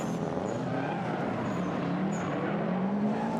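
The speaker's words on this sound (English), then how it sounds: "You can hear it bogged down. You know, those boxer engines, the flat four, they sound so cool." A rally car with a boxer flat-four engine bogs down during a Gymkhana Grid 2015 finals run, a steady loud engine drone with a pitch that wavers and sags, heard over constant crowd and track noise.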